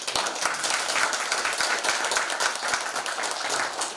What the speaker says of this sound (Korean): 우리 강영근 회장님 박수를 한번 보내주십시오